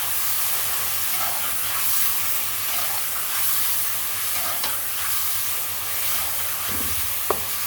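Ginger garlic paste sizzles and fries steadily in a hot pan for Delhi biryani, with soft scraping of a spoon stirring it and occasional light clinks, no talking.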